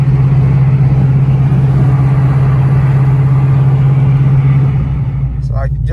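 A cammed car engine idles rough on bad E85 fuel, a loud, steady low rumble close up with a lumpy, uneven pulse throughout, and a brief voice near the end.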